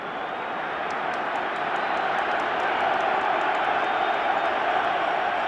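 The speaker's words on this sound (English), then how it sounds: "The exciting sound of a Wembley crowd rising to encourage England at the moment." A packed Wembley football crowd roars steadily in encouragement of England during a 1973 World Cup qualifier against Poland, a dense, sustained wash of massed voices rising slightly in intensity with no pauses.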